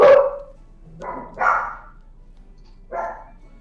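A dog indoors barks four times in short, sharp bursts, the first loudest and nearest, followed by a pause and then two quick barks and a final one, each standing alone.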